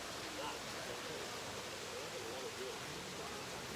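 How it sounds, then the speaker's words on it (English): A waterfall at Puning Hot Springs in Subic Bay, Philippines, gives a steady, even rush of falling water, constant and unbroken throughout. "Be it the waterfall back here."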